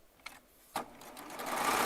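A Baby Lock Triumph serger sews charm fabric squares together: two short taps, then the motor starts and quickly builds into a loud, dense, steady whir close by.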